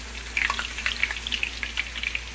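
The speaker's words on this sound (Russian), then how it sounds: "Итак, начинаем жарить вот с картошечки." Potatoes fry in plenty of oil in a kazan, making a close, continuous sizzle with dense crackling pops and no voices.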